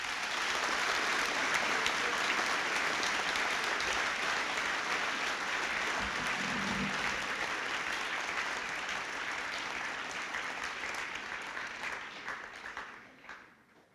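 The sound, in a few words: applause at a school assembly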